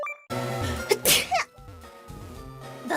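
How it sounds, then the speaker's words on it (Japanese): One loud, sharp sneeze bursts out close by after a brief silence, followed by a breathy tail and some murmured vocal sounds. "ここの家に帰ってきてからもう5回くしゃみしてる"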